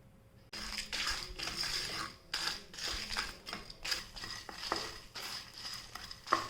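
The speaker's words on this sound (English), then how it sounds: "The poppy seeds are starting to splutter now" Poppy seeds, dal and red chilies frying in a few drops of oil, giving a busy crackling splutter with scattered sharp pops and occasional stirring scrapes against the pan, close and fairly steady throughout.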